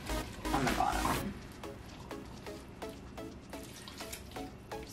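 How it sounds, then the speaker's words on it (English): Water running from a kitchen tap into a cooking pot, a short splashing gush followed by a string of evenly spaced drips and trickles, faint and close, with no talking. "I am going to add a little bit of water."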